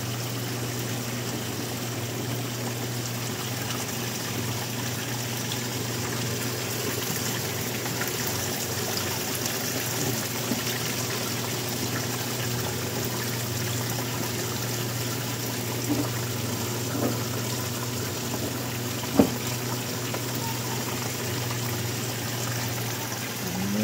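Water overflowing from a mud crab tank and trickling down to the level below, a steady soft splashing flow throughout with a faint pump-like hum and a couple of small drips near the end.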